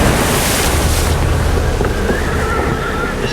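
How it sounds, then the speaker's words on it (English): Storm winds above 50 knots roar over waves up to 5 meters high in the open sea around a small sailing boat, a loud continuous rush of wind and surf with gusts buffeting the microphone. "Winds are over 50 knots, and the waves are as high as 5 meters."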